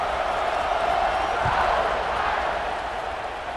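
A college football stadium crowd at a USC versus Notre Dame game roars steadily just before kickoff, a dense, continuous wash of cheering and noise at even loudness throughout.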